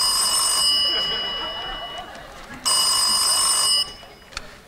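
A telephone bell rings in two loud bursts, the first long and fading, the second shorter after a brief pause, ending with a faint click.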